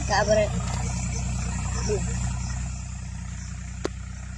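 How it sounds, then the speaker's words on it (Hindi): A tractor engine running in muddy fields, a steady low rumbling drone that fades slightly over the clip, with a person talking over it at the start and a sharp tap near the end. "ट्रैक्टर चलची"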